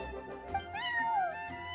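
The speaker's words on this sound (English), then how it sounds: "I'm sorry, that's my neighbor's cat." A cat meows in a video game, a single drawn-out rising and falling meow, fairly soft and clear, with no talking.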